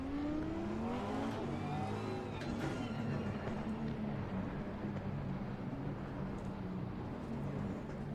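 A Lamborghini Super Trofeo race car in the Assetto Corsa Competizione racing game, its engine droning and shifting pitch steadily throughout, loud and continuous with no voices.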